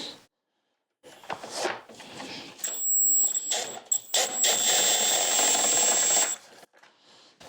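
A power tool whirs in bursts close by while a bolt is backed out of the front end of a BMW R1300 GSA motorcycle, a high mechanical whine running between short pauses and clicks.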